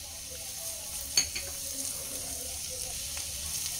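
Chopped onion and 6 to 7 cloves of crushed garlic fry in a pan as they are stirred, a soft, steady sizzle with a couple of brief scraping clinks from the utensil.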